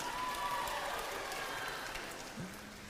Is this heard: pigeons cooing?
no